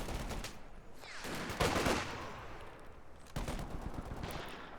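Bursts of gunfire in the Company of Heroes 2 strategy game, rapid machine-gun rattles and scattered shots over a busy battle din, moderately loud and fairly continuous.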